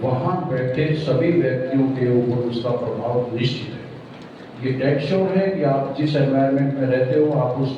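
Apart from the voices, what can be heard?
None of the usual background noises is heard.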